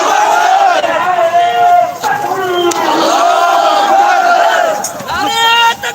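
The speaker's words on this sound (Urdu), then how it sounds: "نعرے لگاؤ۔" A crowd chants slogans loudly and close, with many voices shouting in unison in repeated phrases. Short dips come between the calls.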